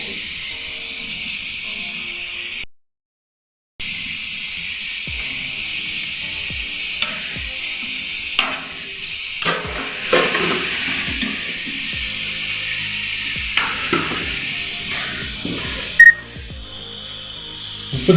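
Beetroot for a Tamil beetroot thuvattal sizzles in a hot pan, a steady close frying hiss running throughout with occasional stirring clatters, a brief silent gap early on and a sharper knock near the end.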